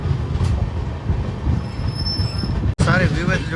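Train pulling out of Bobbili Junction, with a rumbling roll over the rails and a thin, high wheel squeal. A brief dropout comes near the end, then the rolling noise returns.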